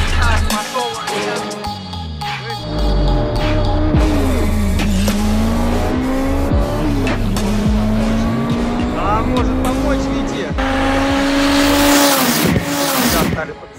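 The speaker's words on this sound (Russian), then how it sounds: "Витя поднимает обороты, Сережа поднимает." Drag race between a modified Toyota Starlet and other cars, engines revving loudly with rising and falling pitch, tires squealing and cars roaring past up close; no talk over the engines.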